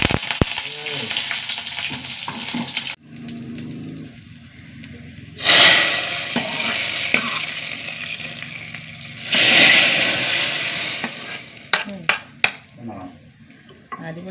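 Mustard seeds, green chilli and curry leaves hit hot coconut oil, sending up two loud bursts of crackling sizzle over a steady, softer frying hiss. Close stirring clatter and a few sharp pops follow, with no talking.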